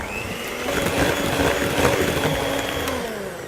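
An electric mixer whirs steadily while beating diplomat cream smooth, a close, continuous motor drone with slight fluctuations in pitch and load throughout.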